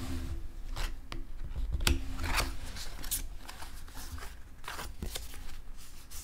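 Tarot cards being shuffled and drawn by hand, close and quiet, with repeated brisk riffles and soft snapping slides of card against card in an otherwise still room.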